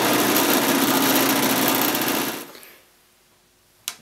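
A power drill whirs at high speed for a couple of seconds boring a hole in scrap wood, then winds down into quiet, ending with a single sharp click.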